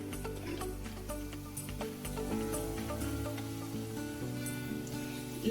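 Garlic and coriander leaf fry in a pan for a fish curry, a steady close sizzle and crackle with occasional stirring noises, continuous and moderately loud.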